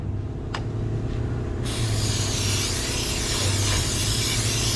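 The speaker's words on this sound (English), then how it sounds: "spray it off nice and shiny" A loud, steady hiss of an aerosol spray that starts partway through and continues, over a constant low mechanical hum.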